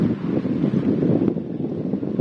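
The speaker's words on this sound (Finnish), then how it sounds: "Te ette varmaan saa mitään selvää tästä, kun tää tuuli on niin kova." Strong wind blows hard into the microphone during a long-distance bicycle trip, a continuous loud low rumble and buffeting that drowns out everything else for the whole moment.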